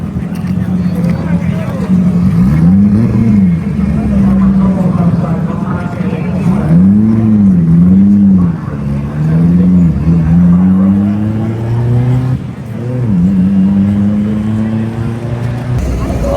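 A Haltech-tuned Mitsubishi Evo race car makes a bye run down a drag strip, its engine loud and close, rising and falling through rapid revs and gear changes, while people talk over it.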